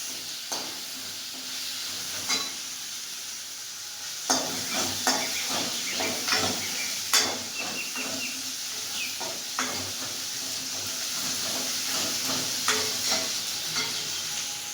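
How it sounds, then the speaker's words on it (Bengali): Ginger frying in a pan for a hilsa curry with gathi kochu, a constant bright sizzle broken by repeated scraping stirs and small clatters from a spoon, no voices. "আদাটা প্রথমে একটু ভেজে নেব"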